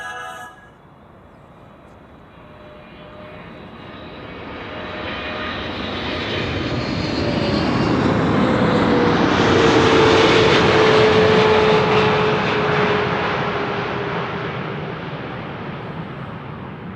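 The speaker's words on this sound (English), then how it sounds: "KLM flight 592 is next. That's arriving from Johannesburg" A KLM passenger plane arriving at Amsterdam Schiphol from Johannesburg, its engine roar swelling to a loud peak as it passes overhead and then fading, with a rising and falling whine over a broad rumble.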